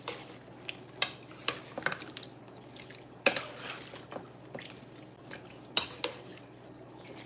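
Food being stirred in a pot, several quiet scrapes and clinks of a utensil in irregular bursts over a low steady background hum, close by, with no talk.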